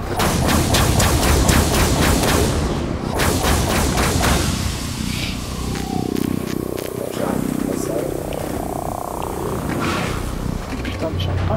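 Rapid cannon fire from turrets on an assault barge in a video game, a dense burst of booming shots early on that gives way to rumbling and scattered blasts, with someone talking over it.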